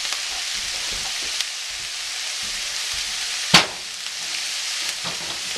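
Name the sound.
ground beef frying in a pan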